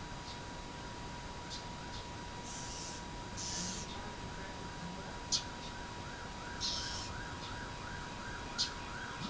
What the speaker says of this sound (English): They're looking out at these birds that are making a lot of noise.